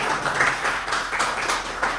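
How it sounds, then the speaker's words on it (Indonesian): A classroom of students claps for a classmate during a Quran recitation lesson, a steady mass of overlapping hand claps that holds for about two seconds at moderate loudness. "Tepuk tangan untuk Zawa."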